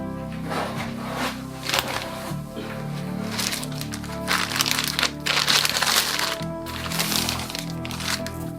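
Plastic bubble wrap packing from a new laptop keyboard for a Lenovo Ideapad G50-70 being crinkled and handled, with steady close crackling and rustling throughout and a few louder crunches.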